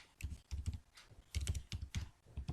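Rapid typing on a computer keyboard while writing Python string code, with clustered bursts of clicking keys close up and short pauses between bursts; no voice.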